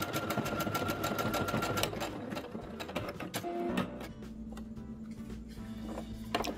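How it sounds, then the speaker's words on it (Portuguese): A Singer SE9185 sewing machine stitches lettering, running in a fast, busy mechanical whir with rhythmic clicking that shifts and slows partway through. "E agora eu só vou costurar."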